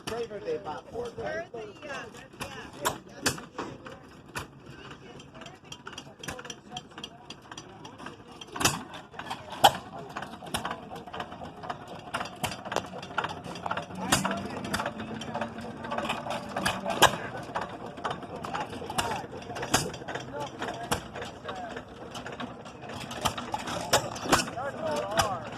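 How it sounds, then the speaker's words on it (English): An antique 3-horsepower cast-iron Western stationary engine starts and runs at a tractor and engine show. Sharp mechanical clanks and firing beats grow into a steady rhythmic chuffing, with people talking nearby. "going to try and get this Western engine started"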